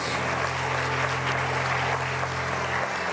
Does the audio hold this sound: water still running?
no